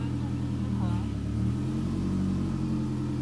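A 2006 Toyota Camry engine idles steadily after ignition, a low continuous hum with a brief rise in pitch near the start, heard close up with no other sounds over it.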